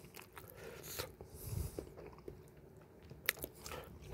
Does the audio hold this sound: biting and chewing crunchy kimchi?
yes